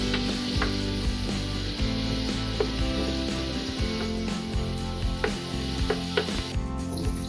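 Sausage sizzling steadily in a frying pan for a Filipino macaroni soup, a constant close crackle with occasional scrapes and knocks of a utensil against the pan.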